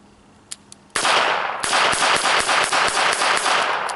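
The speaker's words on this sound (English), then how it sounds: "We'll do a little rapid fire." Rapid string of sharp .22 LR shots from a High Standard Sentinel R-101 revolver, loud and close, fired in quick succession after a couple of faint clicks, with no talking.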